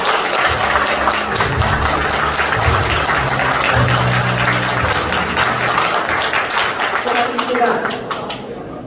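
Crowd applause and clapping at a Democratic Party of Korea candidate's campaign office opening in Gumi, encouraging the party's 102 local election candidates; steady, dense clapping for about eight seconds that tapers off at the end.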